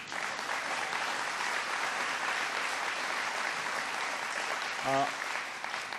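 A crowd at a rural economic forum gives the mayor a round of applause, with steady, even clapping throughout and a brief voice rising over it near the end.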